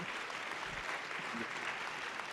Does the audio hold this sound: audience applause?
yes